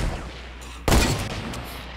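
Sharp burst of video game gunfire from a Fortnite weapon such as a hunting rifle or revolver, a loud crack near the middle followed by a decaying tail over steady background game noise.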